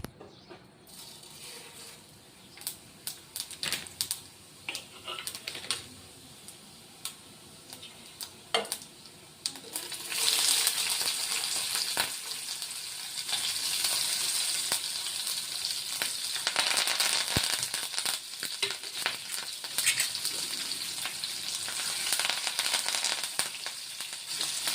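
Cumin seeds, curry leaves and green chillies frying in oil for jeera rice, with intermittent crackles and spoon clicks at first, then a loud, steady hiss of sizzling that carries on to the end, close and without speech.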